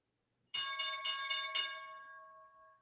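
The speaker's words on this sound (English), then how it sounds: "Well, there's your bell." A bright ringing bell marks the stock market close, struck about five times in quick succession and then left to ring out and fade, heard alone and fairly close.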